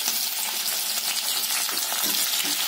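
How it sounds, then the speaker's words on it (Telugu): Curry leaves frying in hot oil for Telangana-style rasam, giving a steady, dense sizzle and crackle that runs unbroken and fairly close throughout, with no voices. "వేసుకొని బాగా ఫ్రై చేసుకోవాలి"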